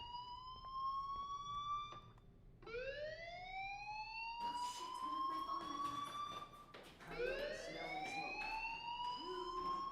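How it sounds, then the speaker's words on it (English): A school fire alarm in the Life Is Strange video game wails in rising sweeps, repeating several times at a moderate distance with faint background noise. "Hey, do you hear that fire alarm?"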